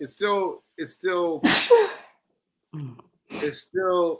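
A single sharp sneeze bursts out between stretches of conversation, close and loud, followed by a brief pause before talking resumes.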